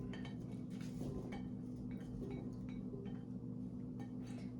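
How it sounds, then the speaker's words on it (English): Sliced apple, halved grapes, mozzarella and cheddar tumble into a bowl for a fruit salad, giving faint, scattered clinks and soft knocks over a steady low hum. "So we'll just dump everything in the bowl."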